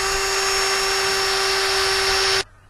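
A power drill bores into a log for growing mushrooms, giving one steady, high whine for over two seconds that then stops abruptly.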